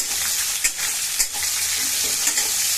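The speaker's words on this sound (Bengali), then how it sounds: "এই যে আগে আমি হচ্ছে আলু ভালো করে ভেজে নিচ্ছি" Potatoes fry in a pan with a steady broadband sizzle, and a few louder crackles and stirring scrapes break through now and then. The potatoes were first rubbed with salt and turmeric. No one speaks.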